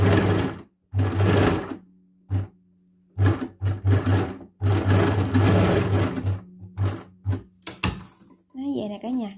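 A sewing machine stitches a round neckline on a garment in repeated bursts of rapid mechanical whirring, starting and stopping several times, close and fairly loud, while someone talks between and over the runs.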